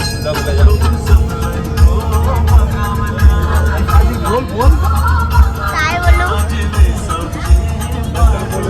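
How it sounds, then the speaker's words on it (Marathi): Dense crowd hubbub fills a busy temple pilgrimage in Pandharpur, a steady babble of many voices with low thumping beats beneath and a nearby person speaking over it. "गर्दी आहे ना."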